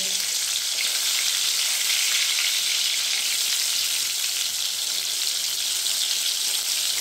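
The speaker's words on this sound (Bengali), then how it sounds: "আমি বেগুনটা ভেজে নেব।" Eggplant slices frying in a generous amount of oil give a steady, loud, crackling sizzle that continues without a break.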